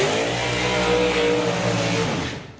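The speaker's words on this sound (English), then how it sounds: "It is our two-seater dragster with the passenger in the back" A two-seater drag racing dragster carrying a passenger in the back roars loudly and steadily at a drag race event, the engine noise dense and close before tapering off at the end.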